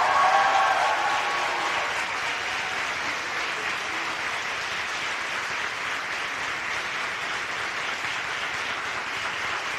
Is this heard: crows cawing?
no